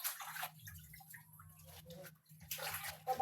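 Taro being washed by hand in a basin of clean water, with splashing and sloshing bursts at the start and end and quieter dripping and rinsing between them, heard up close.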